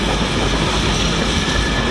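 Locomotive 56078 passes at Stafford heading towards Crewe. The train gives a loud, steady, close roar of rumbling engine and rolling wheels that fills the whole moment, with no voices.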